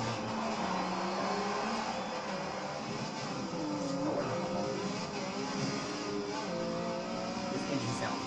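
Engine note of a Mercedes C63 drift car, a continuous loud roar with rising and falling revs, heard close and steady throughout with a faint voice underneath.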